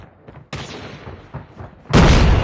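A grenade blast and gunfire in a Call of Duty online multiplayer match: scattered shots crackle, then a sudden loud, roaring explosion bursts near the end.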